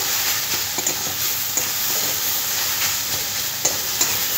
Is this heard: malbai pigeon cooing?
no